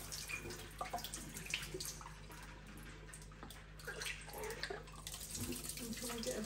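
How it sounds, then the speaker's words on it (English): Tap water runs steadily into a sink over an ice maker part, a continuous splashing stream with small drips and clatter, fairly close and alone without talk. "I'm thinking we might have to run this under hot water a little bit."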